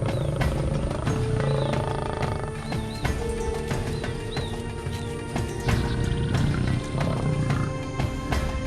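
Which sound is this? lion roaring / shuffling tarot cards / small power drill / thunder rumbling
lion roaring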